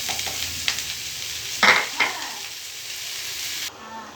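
Chopped onion and onion greens frying in oil in a pan, a steady sizzle with stirring scrapes and a few louder clatters of the spoon near the middle, no talking.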